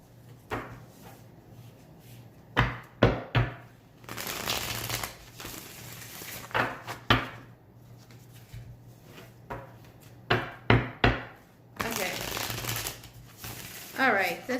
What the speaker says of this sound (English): My little hands sometimes struggle to shuffle these thicker decks.